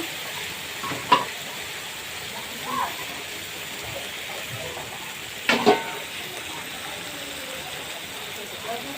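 Onions sizzle in a pan with a continuous soft hiss, broken by a few sharp clinks of stirring.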